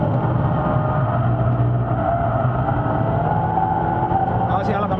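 A Peugeot RCZ R on a track drones with steady engine noise, accelerating and holding throttle from inside the car, loud and continuous, with a faint voice at the end.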